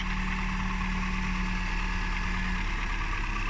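A 1999 Opel Astra with a 1.6 engine idles steadily, a constant low rumble with a faint hum that holds evenly throughout and carries no talk.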